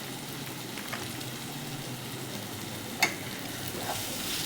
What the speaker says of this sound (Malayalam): എന്നിട്ട് നന്നായിട്ട് വഴറ്റി കൊടുക്കാം.